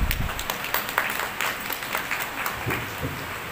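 An audience at a school National Science Day celebration gives a short burst of scattered clapping that fades slightly, heard in an indoor hall with no speech over it.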